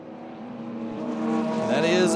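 Audi and Mercedes GT race cars battling for position at Indianapolis, engines droning and rising in pitch as they approach and sweep past, growing louder toward the end under a commentator's voice.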